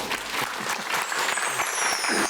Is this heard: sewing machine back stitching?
no